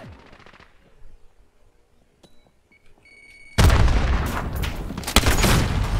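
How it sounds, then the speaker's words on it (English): Rapid automatic gunfire erupts in Call of Duty Modern Warfare during an online match, a loud, dense sustained burst after a few seconds of near-quiet with faint tones. "who's shooting at me?"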